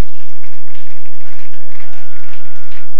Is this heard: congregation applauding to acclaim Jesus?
yes